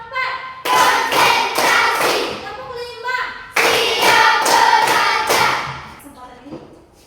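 A group claps hands together in two bursts of rapid, loud applause-like rhythmic clapping, with voices calling out between them.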